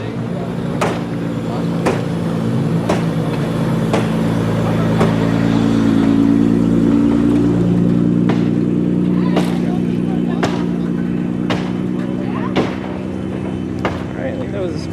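Smash It Mini demolition derby cars, a mix of rear and front wheel drive, at the 2020 Connersville fall derby, their engines droning and revving together at close range with scattered sharp knocks and voices over the top.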